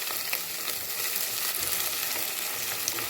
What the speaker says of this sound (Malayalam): ഉള്ളി ഇട്ട് കൊടുത്ത് നമുക്ക് ഇളക്കി കൊടുക്കാം